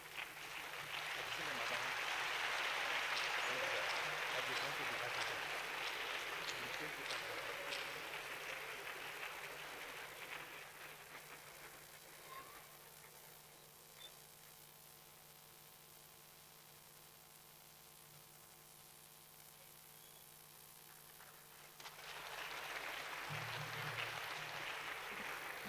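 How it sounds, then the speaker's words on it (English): Audience applause rings out for an inaugural lecturer at a university lecture event, a broad, sustained wash of clapping that fades to a quieter hum and then swells again near the end. "Another round of applause for our inaugural lecturer."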